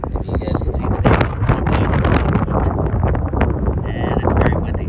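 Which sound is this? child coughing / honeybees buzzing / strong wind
strong wind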